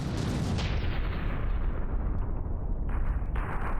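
Heavy aft artillery firing from a battleship in From the Depths, a dense, continuous rumbling barrage of booms filling the whole stretch, loud and sustained with no pauses.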